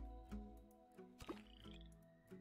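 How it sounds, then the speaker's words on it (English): Frogs croak in the zoo-building video game Planet Zoo, a handful of short, close, low croaks layered over a soft, steady ambient game background. "Yay, we have frogs!"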